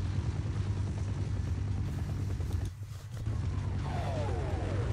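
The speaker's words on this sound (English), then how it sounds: "Oh, helicopter." A helicopter in the shooter game Half-Life rumbles loud and steady, with a brief dip partway through before the rotor roar returns, no talk over it.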